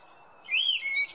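Anis thrush song from Indonesia: after a quiet start, a clear, bright whistled phrase rises and falls, followed by a second higher run of tweets, close and alone.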